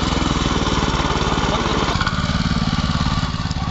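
A small mini rotavator engine runs steadily with a rapid chugging putter, close and loud, its tone shifting slightly as the machine is worked in reverse gear.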